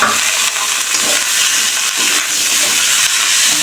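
Vegetables dropped into hot oil with black cumin give a loud, dense sizzle and hiss that carries on steadily up close, with slight surges as the pan is stirred.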